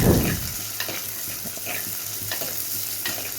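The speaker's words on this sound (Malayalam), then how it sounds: "ഈ ഉള്ളി ഒന്ന് മൂപ്പിച്ചെടുക്കുക" Sliced onion frying in oil in a pan for an easy Kerala-style curry, a steady close sizzle with a louder hiss at first and faint stirring clicks throughout, no voices.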